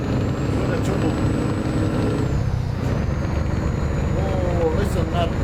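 A truck engine in the Euro Truck Simulator 2 video game drones steadily with a low, continuous rumble throughout, while someone talks over it.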